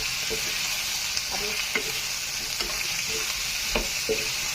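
Tomatoes frying in oil for Nepali chicken chilli, a constant close sizzle with intermittent clicks and scrapes of a spatula stirring, no voices.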